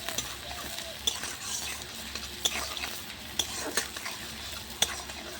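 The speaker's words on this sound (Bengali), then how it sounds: "পেঁয়াজটা একটু লাল করে ভেজে নেব" Onions sizzle steadily in a pan over a clay stove while a spoon scrapes and clinks against the metal every second or so.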